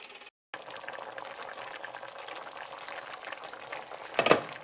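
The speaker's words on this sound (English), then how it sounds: "I think there's enough moisture in there to steam these beans" Green beans steam in a covered pan with a little water over medium heat, giving a steady close bubbling hiss that runs throughout, with a brief louder surge near the end.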